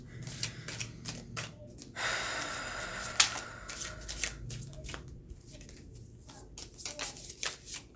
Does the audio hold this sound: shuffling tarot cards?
yes